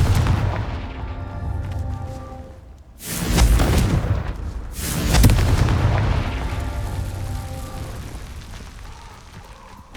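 Confringo fire spell blasts in the video game Hogwarts Legacy: two heavy booming explosions a couple of seconds apart, each with a rumbling tail, over a continuous low game ambience.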